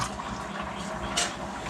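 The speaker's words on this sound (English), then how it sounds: "Try to get a better pour this time." 7-Up soda poured into a measure in a home kitchen, a steady close splashing stream lasting the whole moment with a brief louder surge near the end.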